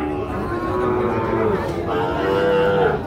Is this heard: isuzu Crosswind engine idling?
no